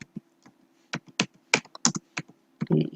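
Someone types on a computer keyboard, producing a short run of separate, sharp key clicks with uneven gaps. A few keys are struck in quick succession near the end. The clicks are close and crisp against a quiet background hum.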